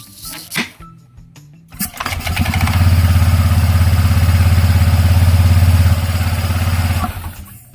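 A Honda Click 125 scooter with an unserviced CVT starts with a few clicks and a short crank, then runs with a close, steady, loud mechanical engine note before easing off near the end.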